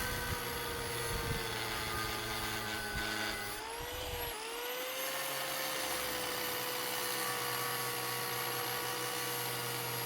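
Abrasive cutoff disc slicing into the sealed steel shell of a refrigeration compressor, a steady high whine with a brief dip and change in pitch midway, then grinding on continuously and close.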